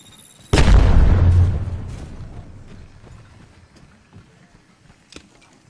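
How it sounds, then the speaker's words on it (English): Arc Star grenade in Apex Legends, a sudden loud burst and crackling boom that decays over about two seconds, then faint scattered clicks and small pops. "Throwing Arc Star."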